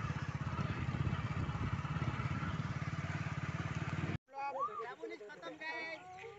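Motorbike engine running steadily at close range in rural Kalahandi, Odisha, loud and continuous with a rapid pulsing beat for about four seconds before cutting off abruptly, followed by people talking.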